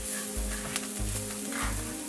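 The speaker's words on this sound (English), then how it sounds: "So just toast this turmeric for about a couple of seconds, about 20 seconds, just to waken up the spice." Turmeric toasting in a hot pan for a Trini curry, a steady soft sizzle running throughout with faint scraping stirs, near and continuous with no talk.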